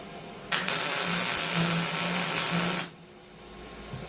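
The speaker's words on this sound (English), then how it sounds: "That's the tack weld on that corner." Tack welding steel corners with a welder: a steady, loud hissing crackle that starts abruptly, holds for a little over two seconds and cuts off sharply, close by, with no talk over it.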